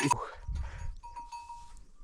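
Goats bleating in a high mountain meadow where herders keep them, a couple of short calls heard nearby among quieter stirring and faint rustle.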